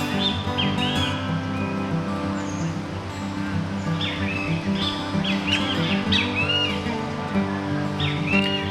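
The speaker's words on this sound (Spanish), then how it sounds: "También realizan un fuerte pitido repetido, que suena así." Loud, clear whistled calls of a green-barred woodpecker repeat at short intervals over a steady low background noise, with softer chirps scattered between them.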